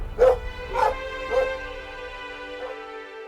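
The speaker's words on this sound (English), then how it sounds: "Oh, Max, you're a fantastic dog" A dog gives three evenly spaced barks that fade from loud to softer, over steady background music.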